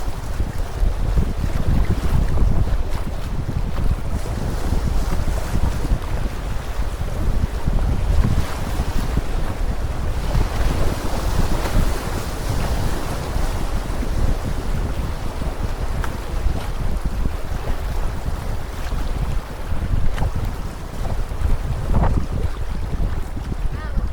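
A small boat pounds through rough water on the Missouri River, with constant loud splashing, churning spray and heavy wind buffeting the microphone throughout.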